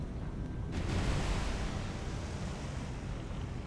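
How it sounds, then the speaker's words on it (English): A ship's magazine blows up in the naval video game War on the Sea, a broad roaring rumble that swells and sustains like a heavy explosion's aftermath, dense and loud throughout with no voices. "That was a magazine explosion."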